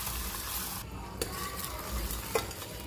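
Caramel being stirred with a spoonful of butter in a pan, a soft bubbling sizzle under two sharp utensil scrapes against the pan.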